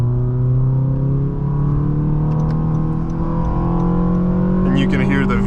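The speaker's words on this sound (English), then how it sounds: "you can hear the VTEC working" A 2016 Honda Accord Sport with a 2.4-litre four-cylinder engine revs hard under acceleration, its pitch climbing steadily as VTEC engages, loud and close from inside the cabin with a voice speaking over it.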